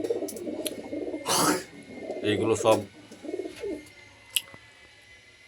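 Andhra Madrasi pigeons cooing at a loft, soft repeated coos with a few brief wing flutters, someone speaking briefly over them.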